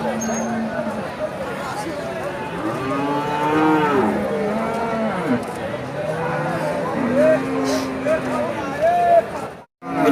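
A young Friesian heifer calf moos repeatedly at a cattle market, its long low calls rising and falling, with people talking nearby in the background.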